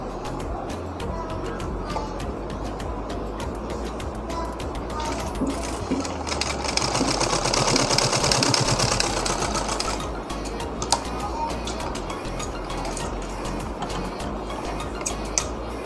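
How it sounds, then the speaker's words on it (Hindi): A sewing machine stitches a folded neck strip on a katori cut blouse, with a steady mechanical whir that swells in the middle over a constant background hum. "इस तरह फोल्ड करके इससे मिलाते हुए सिलाई कर लेनी है।"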